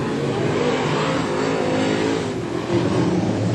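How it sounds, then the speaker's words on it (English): Late model race cars roar at Carina Speedway in Queensland during the title final, a loud continuous engine drone with rising revs as the cars power off the turns, close and unbroken. "That rear axle just spinning up when he tries to put the foot down."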